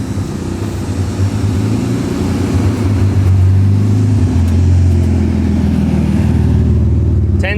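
A 1000hp rear-wheel-drive Infiniti Q50 Red Sport roars loud and close as it accelerates away, its deep engine drone rising in pitch and staying steady with no talk.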